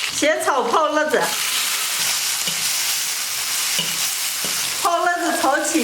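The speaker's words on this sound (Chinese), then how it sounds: "锅里葱倒点油，下入葱姜、蒜干、辣椒，先炒泡辣子" Pickled chilies with scallion, ginger and garlic stir-fried in hot oil in a wok, a loud continuous sizzle with scraping stirring strokes, and a voice speaking briefly at the start and end.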